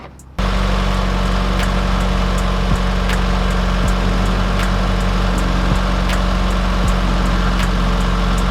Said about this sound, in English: Now I could turn on the car and let's get her going.